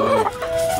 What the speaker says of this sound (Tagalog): Marami siyang mga manok dito idol